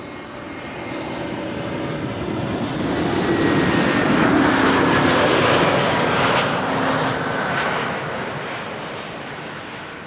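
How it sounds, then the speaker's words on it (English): An Air Transat Airbus A321neo arriving from Toronto at Amsterdam Schiphol roars overhead, its jet engines building from a steady rumble to a loud, broad peak mid-pass before easing off again. "Hope you guys are also able to hear the engines"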